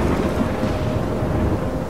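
A steady roar of storm wind and rumbling weather in Life Is Strange, dense and continuous with no distinct thunderclap, filling the scene without any voices.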